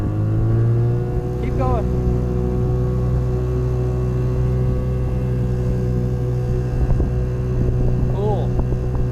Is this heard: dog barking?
no